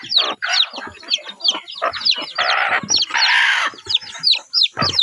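Chickens cluck and cackle busily at close range, with a rooster crowing among them and high, thin peeps from newly hatched chicks scattered throughout.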